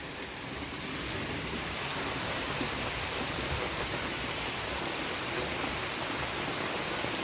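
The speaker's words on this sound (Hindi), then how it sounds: "तो ये देखो, इतनी मोटी बारिश है" Heavy monsoon rain showers over hills, a dense steady hiss of downpour drumming on surfaces, continuous and fairly close, with no talking.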